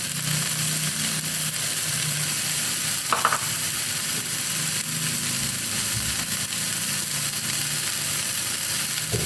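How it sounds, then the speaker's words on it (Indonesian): Fish grills in a Teflon pan with a constant close hissing sizzle, a low engine-like hum underneath, and one brief clatter partway through. "Ini kayak gini aja ikan kita panggang."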